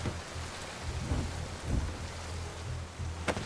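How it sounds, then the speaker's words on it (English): Thunderstorm rain pours steadily as picked up by a security camera's microphone, with low rumbling thunder swelling a few times and a sharp crack near the end as lightning strikes a backyard patio. "This security camera footage of lightning hitting the patio behind her house."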